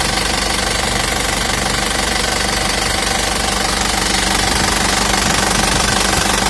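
An Isuzu Elf long truck with an Adi Putro body from late 2018 has its diesel engine running, a loud, close, steady knocking clatter with rhythmic pulses and no talk.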